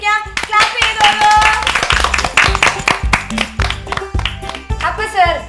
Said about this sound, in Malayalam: ക്ലാപ്പ് ചെയ്തോളൂ